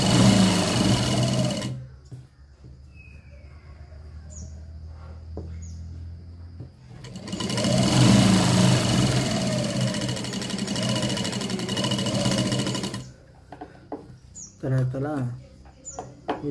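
A sewing machine stitches a lined blouse in two runs of steady, rapid whirring, with quieter pauses between them that hold faint handling sounds and brief speech.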